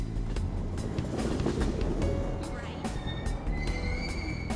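A train runs in the video game Persona 5 Royal, a steady rumble of wheels and carriage noise with a few squeals and clatters, while voices talk over it.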